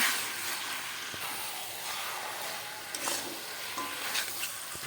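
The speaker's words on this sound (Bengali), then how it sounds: "এবার ভালো করে আমি একটু মিক্স করে নেব।" Beef trimmings fry in a pan while being stirred and mixed, a continuous close sizzle broken by soft scraping taps of the spoon, with no speech.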